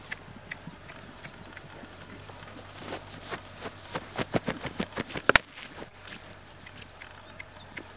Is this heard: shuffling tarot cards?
no